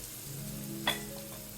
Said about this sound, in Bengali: পেঁয়াজগুলো একটু নরম হলে মশলাগুলো দিয়ে দিই।